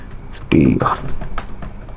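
Quick clicking of keys on a computer keyboard, close by, with a burst of soft clatter amid a few scattered taps while someone talks in the background.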